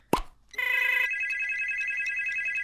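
A smartphone ringtone sounds inside the Job Simulator VR game, a sustained electronic ring with steady harmonic tones after a brief plop, loud and close, continuing without a break and with no talk over it.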